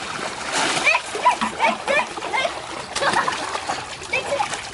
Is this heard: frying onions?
no